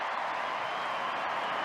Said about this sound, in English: And the crowd applaud.